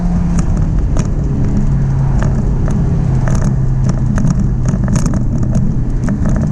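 A 2005 Honda S2000 being driven, a steady loud engine and road drone with low humming tone and occasional sharp clicks and rattles throughout.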